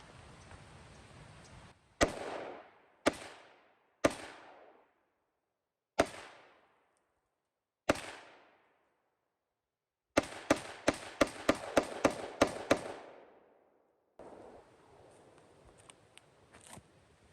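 Smith & Wesson M&P 5.7 pistol fired outdoors at soda cans: sharp single shots spaced a second or two apart, then a quick string of about eight rapid shots, each cracking loud with a short echoing tail.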